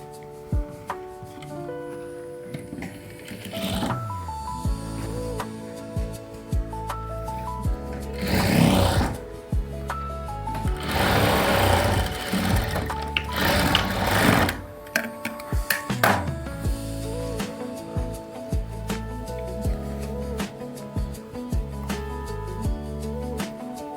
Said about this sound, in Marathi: 1 इंचावर आपल्याला हे शिलाई मारून घ्यायची असते,